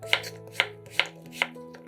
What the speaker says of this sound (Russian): Кабачок нарезаем кубиками.